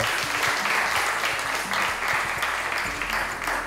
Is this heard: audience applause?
yes